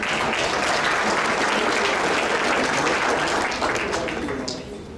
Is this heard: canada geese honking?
no